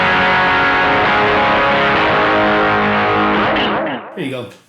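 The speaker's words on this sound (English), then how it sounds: "I can put an overdrive there." Overdriven electric guitar through a small portable Caline Lorcan practice and busking amp, sustained distorted chords ringing loud for about four seconds before a brief final strum and fade.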